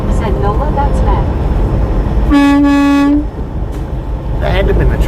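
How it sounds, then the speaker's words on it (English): A loud truck air horn that sounds like a train horn blares once for about a second on a highway drive, close and strong over the cab's engine rumble, with people talking before and after. "It sounded like a dang train horn."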